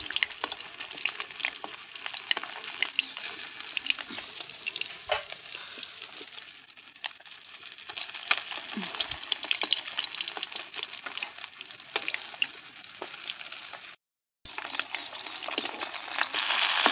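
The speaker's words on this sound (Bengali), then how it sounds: "ভোলা মাছটা ভাজা হয়ে গেছে" Bhola fish fries in a pan with a continuous close sizzle and crackle. The sound drops out briefly once, then the frying hiss resumes.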